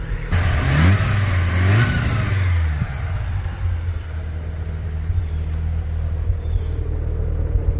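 A Mazda RX-7 rotary engine on a cold start, loud and close: a couple of rising revs in the first seconds settle into a steady, throbbing high idle that runs on alone.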